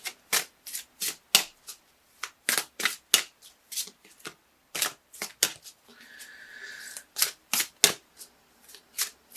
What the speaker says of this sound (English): I'm just looking at these cards over here as I shuffle